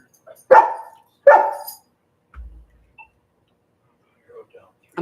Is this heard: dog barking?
yes